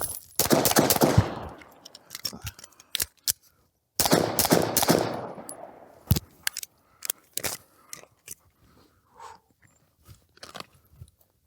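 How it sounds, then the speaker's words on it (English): Pistol shooting drill at targets, drawn from concealment, with sharp close gunshots fired in quick bursts, a brief pause for a reload, then further shots and clattering handling noises, with no talking. "if I turn and shoot the far left target first, that'll be 3 into the left target, reload, 3 into the right"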